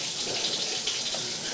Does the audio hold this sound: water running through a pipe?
yes